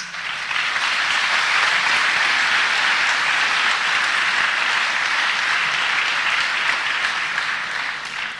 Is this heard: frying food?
no